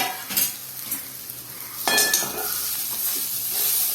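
A ground lentil mixture for beans paruppu usili is stirred and sautéed in a pan, with a soft sizzle broken by scraping strokes and a few light utensil clinks against the pan.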